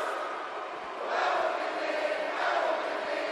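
An arena crowd at WrestleMania 34 cheers before the United States Championship match, a broad continuous roar that swells louder midway and stays high.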